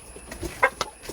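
Chickens clucking close by in a home yard near their coop, a few short, sharp clucks spread over a brief moment with no talk.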